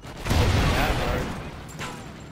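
A booming burst of gunfire erupts in Call of Duty: Ghosts multiplayer and rumbles away over about a second, with voices talking over it and a smaller shot following.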